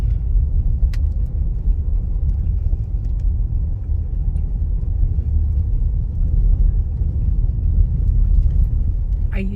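A car drives slowly along a snowy neighborhood road, its steady low engine rumble and tire noise close and continuous throughout, with no break or change in pace.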